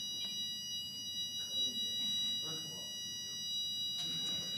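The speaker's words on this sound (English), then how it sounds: "Fire alarm." A fire alarm sounds faintly in a room as a steady high-pitched electronic tone, with people talking quietly under and around it.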